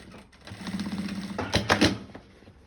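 A sewing machine stitches a thermal bag: a short, close mechanical whirring run of rapid needle strokes that builds and then stops, with no talking over it.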